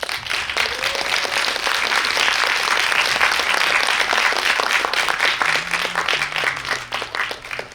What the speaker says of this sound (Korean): 나오시면 큰 박수 부탁드릴게요